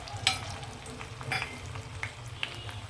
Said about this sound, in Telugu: కొంచెం ఇవి కలరు చేంజ్ అయ్యే వరకు వేగనిద్దామండి ఆయిల్లో